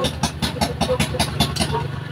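A Rusi Delta motorcycle with a weak battery and charging problem runs or idles with a rapid, pulsing, uneven beat, loud and close, alone without talk.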